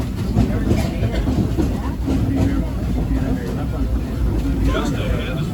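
Theme park train rolling along its rails on a grand circle tour, a steady rumble and rail clatter running throughout beneath an ongoing voice.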